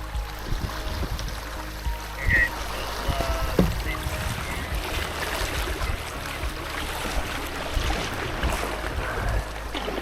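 Canoe paddled along a river around a fallen-tree strainer, with steady water rush and wind, soft paddle splashes and a few knocks against the hull, close by and continuous.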